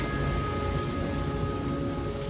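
Steady rain pours in The Flame in the Flood, a dense continuous hiss with a low rumbling bed underneath, constant and fairly loud throughout with no voices.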